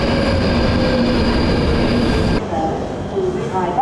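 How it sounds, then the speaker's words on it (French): London Underground metro train running at speed, a loud roar with metallic rattling and high tonal whine, then slowing with the noise dropping away and faint wheel squeals. "On s'est trompé de métro."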